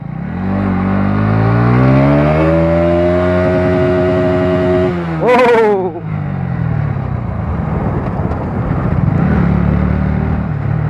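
A Pulsar NS motorcycle with a loud aftermarket exhaust revs up in a long rising pull, then drops off and settles into a rumbling, uneven idle.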